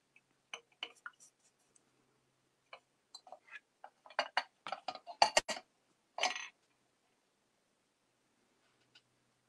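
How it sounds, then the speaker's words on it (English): A batik wax pot is set down and shifted across a work surface, giving sparse, faint clinks and ticks that cluster into a quick run of glassy knocks and scrapes before falling quiet. "So I bring my wax pot over."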